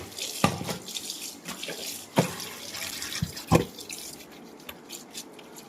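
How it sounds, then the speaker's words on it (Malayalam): Running tap water pours into a kitchen sink used for washing vessels and clothes, a steady splashing stream with several sharper splashes and drips standing out against the flow. "വീണ്ടും വെള്ളം നിറയ്ക്കുക."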